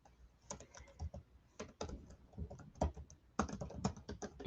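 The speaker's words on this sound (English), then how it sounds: "And you just type in here" Quiet keystrokes on a computer keyboard, irregular clusters of soft clicks and taps at close range with no voices.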